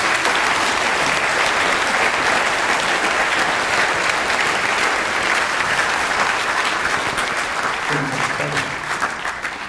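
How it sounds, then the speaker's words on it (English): An audience at a school Every 15 Minutes presentation gives a loud, sustained round of clapping, dense and close, with a few voices murmuring through it as it begins to taper near the end. "Why don't we give kind of everyone a round of applause that was part of it."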